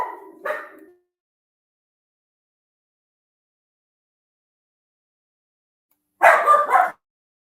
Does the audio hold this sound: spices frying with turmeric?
no